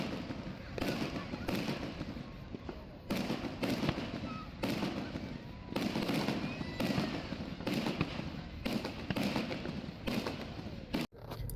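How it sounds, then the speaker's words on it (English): Fourth of July fireworks go off at a park, a series of booming bursts and crackles at irregular intervals under a constant wash of crowd noise and talking, moderately distant. "It was so loud with the fireworks and the people talking"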